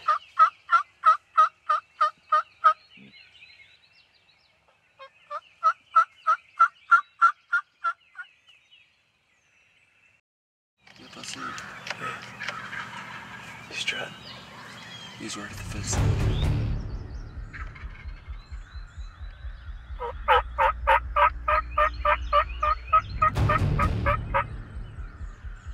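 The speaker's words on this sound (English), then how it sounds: "This gobbler is fired up" A wild turkey gobbler gobbles repeatedly in loud, rapid rattling bursts, several calls separated by pauses, with rumbling noise and other bird sounds in between, during a turkey hunt.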